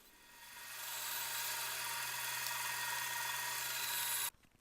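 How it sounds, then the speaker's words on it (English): A bandsaw cuts wooden toy train parts, a steady close hiss and whine that rises over the first second, holds for about four seconds and stops abruptly, with no talking. "in reality I've got a bandsaw, so I very quickly swapped over to finish them off"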